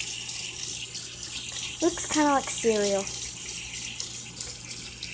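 Water runs steadily from a tap into a sink at moderate loudness while someone talks briefly over it.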